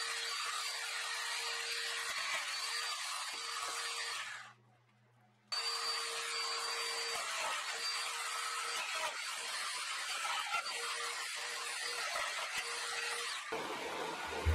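A domino joiner whines as it plunges mortise holes into wooden legs for a TV stand, a steady high motor tone with brief cutting pulses, close and loud, dropping out once for about a second before starting again.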